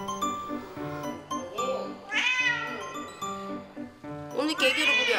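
Several cats meow in turn in a home with thirteen cat breeds, high drawn-out cries repeating over a few seconds, close by, with a person talking softly among them.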